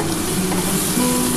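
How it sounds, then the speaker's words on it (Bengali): Water is poured into a hot wok where potatoes and long beans are frying, giving a steady, close sizzling hiss with bubbling that holds at an even level throughout, with no voices. "আমি অল্প একটুখানি এর মধ্যে একটু জল ঢেলে ওটা কড়ার মধ্যে ঢেলে দেবো।"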